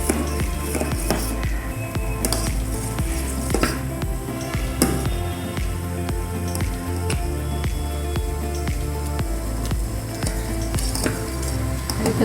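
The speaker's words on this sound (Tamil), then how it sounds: "கொதிக்க ஆரம்பிச்சுட்டு" Dried ginger milk heating on a stovetop, giving a steady close sizzle and dense bubbling crackle with small popping ticks throughout, no voices.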